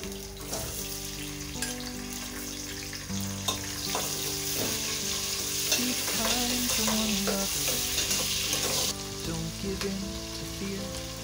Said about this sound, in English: So guys, I'll be adding my onions.